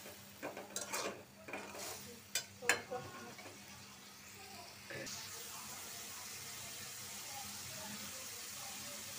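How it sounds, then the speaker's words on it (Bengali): A spice paste with coriander powder and salt is stirred and sautéed in a pan: a few clattering scrapes and knocks of the spoon up front, then a soft, steady sizzle continues on its own. "এখন মশলাটা ভালো করে কষায় নিব।"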